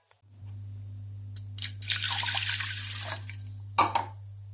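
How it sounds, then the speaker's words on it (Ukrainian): Water pours steadily into a pot of washed millet for a couple of seconds, a broad splashing rush over a low hum, ending with a brief clatter. "зараз буду доливати воду."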